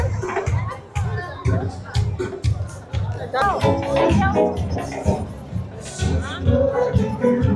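Thick hubbub of a milling crowd at Batumi's Gandagana rural tourism festival, overlapping voices, children's shouts and shuffling footsteps pressing close on all sides, loud and continuous.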